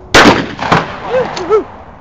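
Gunfire at a birthday shooting event outdoors: two loud, sharp shots about half a second apart, followed by brief faint vocal sounds.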